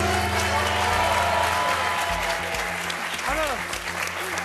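Steady applause from a crowd fills the whole stretch, loud and continuous, with faint music tones underneath.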